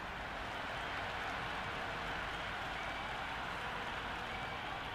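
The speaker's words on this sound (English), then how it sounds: "all these spectators here today are completely enthralled and energized, judging by the noise" A crowd of spectators roars in the Cricket 26 video game during an Uttarakhand versus Andhra Pradesh match, a dense continuous wash of cheering and applause at steady loudness.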